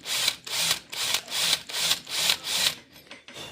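A hole is worked by hand into the housing of a Renault 9 heater fan motor, with about eight rhythmic rasping strokes, close and even, that fade slightly toward the end.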